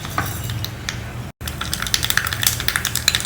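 Mustard seeds hit hot oil in a pan for tempering, setting off sharp, scattered pops and crackles close by. After a brief break, the popping grows denser and more rapid.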